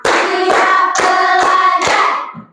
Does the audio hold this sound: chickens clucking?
no